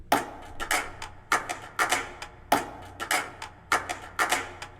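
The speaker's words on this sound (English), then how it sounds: "So one thing that really gets people moving are hand claps and organic sounds." Sharp layered hand claps repeat in a steady groove, several in quick succession per beat, crisp and close with a low thumping pulse underneath.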